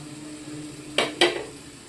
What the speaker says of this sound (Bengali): এখানে আমি সয়াবিনটাকে ঢেলে দিচ্ছি